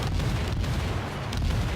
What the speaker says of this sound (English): That Montana's got 2 battleships, cruiser, and destroyer firing on it.